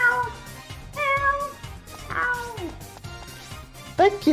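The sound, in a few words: cat meowing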